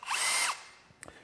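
A Bosch cordless drill driver whirs loudly in a half-second burst with a rising and falling pitch. Then a few faint clicks and handling knocks follow.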